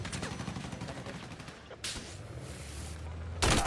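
Video game gunfire rattles in dense bursts, with sharp reports and a sudden louder blast near the end, heard close and busy over game background noise.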